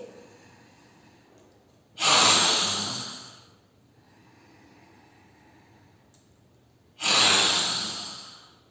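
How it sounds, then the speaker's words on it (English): Yoga breathing in a class, with two long, loud, breathy exhales or inhales sounding close by. They are separated by quiet stretches with faint room hiss and no talking. "inhale, exhale, inhale, exhale."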